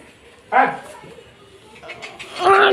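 A dog gives a couple of short barks and yips close by, separated by a quieter gap, with people talking around it.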